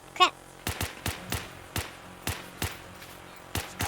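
Repeated gunshots from gunners in the video game Fallout 4, sharp single cracks fired at an uneven pace, about a dozen over a few seconds, fairly close and loud with no talking over them.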